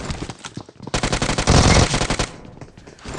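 Automatic gunfire in the BGMI battle royale mobile game, loud rapid bursts of shots that swell into a dense sustained volley in the middle before tapering off, with no speech.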